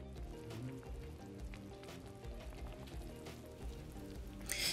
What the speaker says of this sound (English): I've placed it on medium heat with the lid on and brought it to a boil.